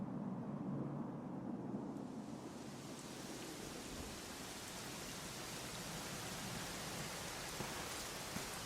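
Steady rainfall in the video game Dragon Quest XI S hisses evenly throughout, a dense soft patter with no voices, slightly brighter and fuller after the first couple of seconds.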